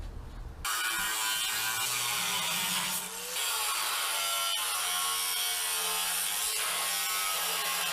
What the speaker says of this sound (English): We're going to cut this frame off